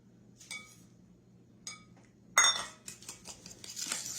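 A spoon stirs sugar into beaten eggs in a bowl for an egg custard pie, with a few faint metallic clinks at first, then a denser run of scraping and tapping nearby.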